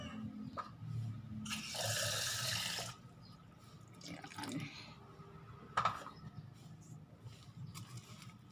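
Water pours into cornmeal muffin batter with dates nearby, a steady running stream lasting about a second and a half among quieter kitchen clatter and brief taps.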